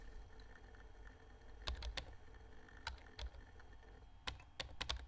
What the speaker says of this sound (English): you literally just type on your keyboard, like, random letters as well. So it feels like you're typing.